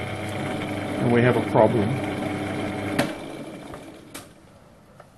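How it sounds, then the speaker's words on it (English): A lathe runs in bottom gear with a steady low mechanical whir, heard beneath a voice and then continuing more quietly, with a couple of faint clicks. "The lathe is in bottom gear."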